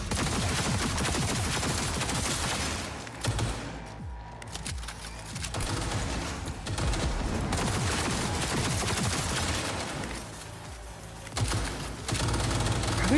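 Cyberpunk 2077 gunfire rattles in dense, rapid bursts close by, broken by two brief pauses before the shooting resumes at full loudness.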